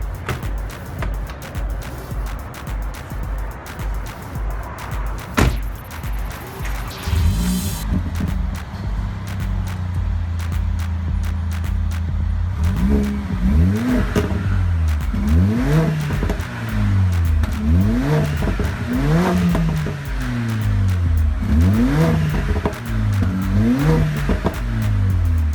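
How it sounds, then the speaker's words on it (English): Mercedes-Benz CLA 45 AMG engine cranking and catching, then settling into a steady idle before a series of sharp throttle blips that rise and fall repeatedly, loud and close with no talking. "let's start up the CLA-45 AMG and hear how it sounds"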